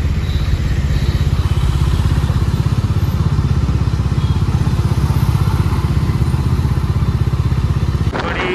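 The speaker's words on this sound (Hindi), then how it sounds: "खतरनाक लेवल का जाम लगा हुआ है, यहाँ पे लगता नहीं है वैसे, आज पता नहीं क्यों लगा हुआ है।" Motorcycles and other vehicles sit jammed on a road, with a loud, close, steady engine rumble and a rapid pulsing idle running throughout before a sudden burst at the end.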